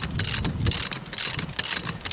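Wrench ratcheting while mounting a wheel on a Ford 8N tractor: bursts of quick metallic clicking come in repeated strokes, close to the microphone, with some wind noise and no talking.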